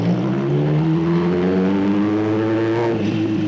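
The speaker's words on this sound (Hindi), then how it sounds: "थोड़ा सा स्पीड अप करके देखते हैं कि कितना कर सकते हैं।" Kawasaki ZX10R sport motorcycle fitted with an SC Project full exhaust system revs hard and close, its engine note climbing steadily and loud with no talk over it.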